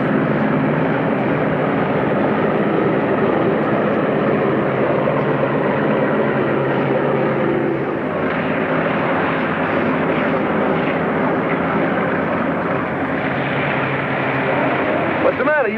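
A propeller aircraft taxis toward the runway, its engine a loud, steady drone throughout, with faint voices beneath it.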